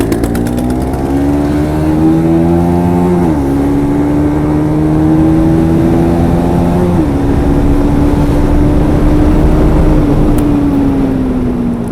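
A Bajaj NS200 motorcycle engine and exhaust drone steadily and loudly while riding, the pitch climbing through the gears with brief drops at shifts, no voices heard.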